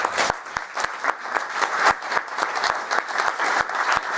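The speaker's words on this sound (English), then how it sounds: "could you all give them a round of applause" A crowd applauds steadily, a dense wash of many hands clapping close by, with no voices over it.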